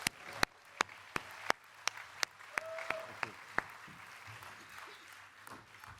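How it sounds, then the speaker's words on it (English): Scattered handclaps ring out at a scholarship and awards gala: about a dozen sharp, distinct claps in a quick rhythm, then the room settles into a quiet murmur. "How about another round of applause?"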